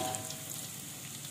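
Garlic frying in oil for nasi goreng, a steady dense sizzle that runs unbroken and close throughout, with no voices over it.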